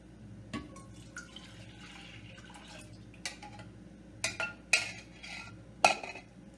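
Custard ingredients such as milk and cornstarch going into a cooking pan, heard as a few sharp metallic clinks of a spoon and utensils against the pan, with quiet kitchen handling in between and no talking.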